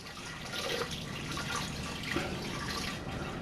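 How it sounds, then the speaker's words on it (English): Cold water poured into a soup pot over vegetables for dehydrated chicken noodle soup, a soft steady splashing and trickling that continues for a few seconds at moderate loudness, no voices. "we're just adding some more cold water, just enough to cover"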